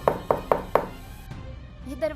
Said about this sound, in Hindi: ये दरवाजे की आवाज